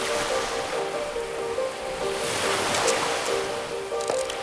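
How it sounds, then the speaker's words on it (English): Pacific Ocean surf rolls and crashes steadily against the shore beside a roadside, a continuous broad wash of water with a faint tonal hum mixed in and no speech. "the Pacific Ocean continues crashing at my back"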